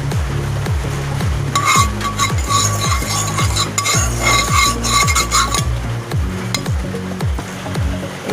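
Oil heats in a hot kadai on a gas stove for dhaba-style chicken curry, with steady close sizzling and a rhythmic run of low scraping or stirring strokes plus metallic clinks.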